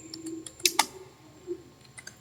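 Code is typed on a computer keyboard: faint, scattered keystroke clicks with a few sharper taps, close and quiet, no voices.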